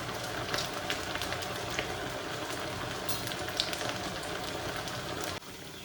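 Soya vegetable cutlets fry in hot oil with a steady dense crackling sizzle like rain that holds at an even level throughout, then drops slightly near the end.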